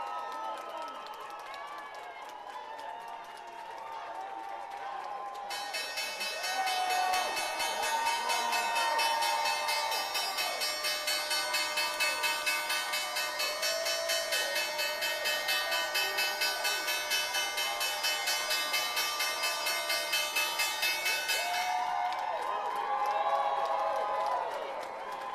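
New York Stock Exchange closing bell, rung with the New York Knicks at the big board: a loud, continuous electric bell rings steadily for about sixteen seconds over a cheering crowd, with voices before and after.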